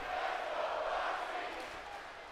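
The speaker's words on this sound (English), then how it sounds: "You hear the fans cheering for the challenger." Fans in an arena crowd in WWE 2K25 cheer for the challenger, a brief, steady roar of many voices at moderate distance, tapering slightly.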